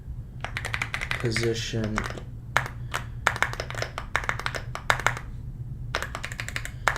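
Computer keyboard typing while writing code for an assembler: sharp key clicks arrive in irregular bursts and pauses, with a person speaking briefly near the start.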